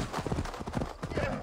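Horse hooves clip-clop in rhythmic trotting beats in Assassin's Creed Valhalla, a close, steady patter with a brief whinny, while someone talks over it.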